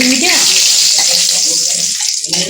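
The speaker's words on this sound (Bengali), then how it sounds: "এই যে তেল গরম হয়ে গেছে, এখন আমি তেজপাতা আর জিরা দিয়ে দেবো" Bay leaves and cumin hit hot oil in a home kitchen, a loud, steady broadband sizzle hissing throughout, with brief voice fragments early on.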